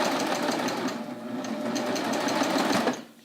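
A serger stitches across a jeans hem, its rapid mechanical whir running steadily up close for about three seconds before it stops abruptly.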